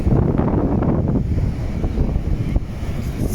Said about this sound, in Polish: Zobaczcie jakie wzburzone morze.